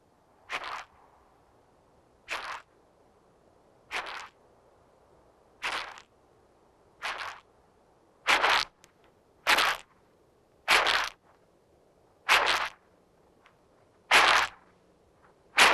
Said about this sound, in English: When alarmed, the huge insect makes such a loud, rasping noise, other creatures give it a wide berth.